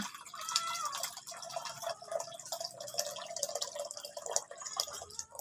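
Water is poured into Nestea juice drink, giving a steady, close, faint splashing and trickling with small irregular drips throughout.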